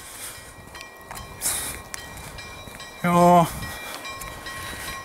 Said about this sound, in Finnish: Tuolla menee juna.